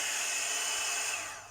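A Premio 3-in-1 blower brush hair dryer running on its low setting gives a steady, close airy whoosh that tapers off toward the end.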